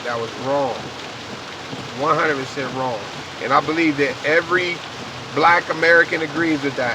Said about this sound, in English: It's raining, so you might hear a little bit of rain in the background.